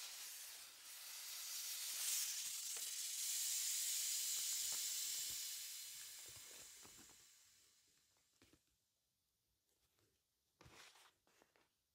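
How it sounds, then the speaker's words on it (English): Handheld steamer hissing onto the pull tab of a vintage pair of Dr. Martens boots, a strong continuous hiss that swells and fades over about eight seconds, followed by faint handling clicks. "very simply steaming or ironing your pool tab so that it easily goes back into place"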